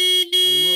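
A car horn sounds close and loud in a village setting, one sustained honk briefly broken by a short gap and then resumed.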